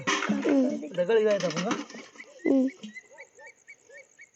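A person talks briefly, then a red-wattled lapwing gives a series of high, sharp, repeated calls in a steady rhythm nearby.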